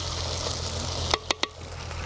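Lady finger okra frying in a pan for an Andhra prawn masala curry, a steady loud close sizzle that fills the clip, broken near the end by three quick sharp clinks of a utensil against the pan.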